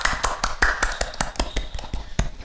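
Brisk, even clapping from a small group praising God during an online youth church service, a rapid string of sharp claps close to the microphone with no voices over it.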